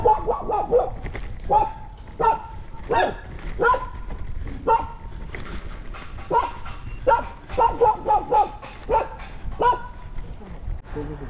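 Dog barking during a countryside drive: repeated short barks and yips come in irregular bursts over steady background noise, with muffled talk mixed in.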